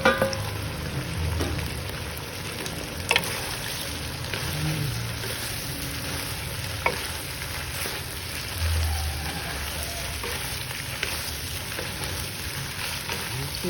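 Cabbage tossed into a chicken stir fry crackles and sizzles in a hot pan, a steady low hiss with a few sharp clatters of utensils, close and fairly loud.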